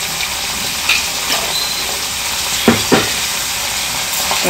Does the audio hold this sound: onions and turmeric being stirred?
yes